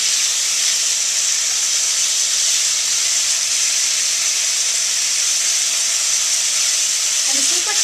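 Cubes of beef searing in a hot wok for shaking beef, a loud continuous sizzling hiss that holds steady throughout, close by.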